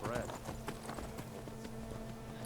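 Horse hooves galloping quickly in the Skyrim Special Edition video game, a rapid, fairly faint patter of strikes beneath someone talking.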